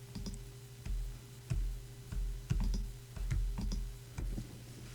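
Sharp clicks from a computer keyboard key being held and a mouse button pressed, several distinct taps spaced irregularly over a few seconds, close and fairly quiet against a low steady hum.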